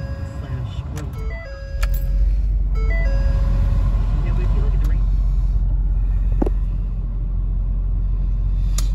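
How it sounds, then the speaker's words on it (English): A 2015 Ford F-350 diesel truck cold-starting in a garage: a short whirring crank, then the engine catches into a loud, steady rumbling idle that persists, with some beeping chimes early on. "It's a cold start, but it's also in a 68 degree garage."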